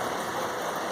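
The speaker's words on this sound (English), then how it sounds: "Oh, the rain's getting harder." Heavy rain pouring steadily in a backyard as a hurricane approaches, a dense, even hiss with no breaks through the short stretch.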